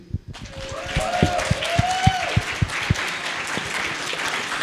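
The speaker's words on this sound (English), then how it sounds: "Applause for CJ, please" Applause from a fan-panel audience at an anime convention, a moderate crowd clapping with several loud individual claps standing out near the front and a brief voice heard at the start.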